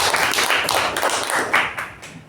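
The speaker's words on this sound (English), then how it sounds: "let's give a round of applause to" A meeting audience gives a round of applause, steady dense clapping from many hands filling the room throughout, moderately loud with no voices.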